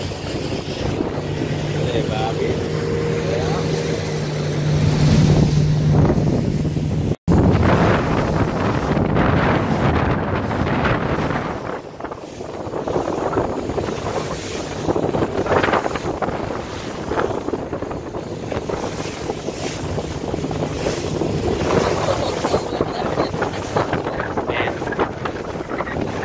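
Steady wind and rushing water around a moving boat at sea in Turkey, with a low engine drone early on and faint voices now and then over the buffeting.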